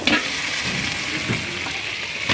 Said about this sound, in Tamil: கறி நல்லா வதங்கிருச்சு.